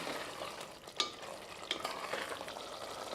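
Chicken sautéing in a pan for Ambur biryani, a steady low sizzle with scraping stirs and a couple of sharper clinks near the middle, fairly faint and without voices.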